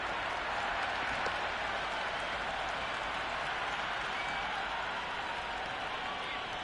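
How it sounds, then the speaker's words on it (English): A constant raucous roar from a cricket stadium crowd in a video game, a broad even wash of noise with scattered clapping, sitting behind a commentator's voice throughout. "The crowd are really getting quite raucous."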